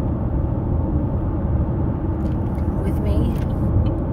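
Car on the road during a ride, a steady low engine and road rumble that stays loud and constant throughout.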